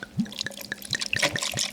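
Liquid poured over ice in a glass for wine slushies, with soft splashing and repeated drip-like trickles running through the short stretch, fairly close and quiet.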